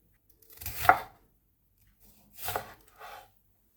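Half a green bell pepper being cut with a knife, one sharp chop near the start and then two softer cuts after a pause, close and clear with no talking.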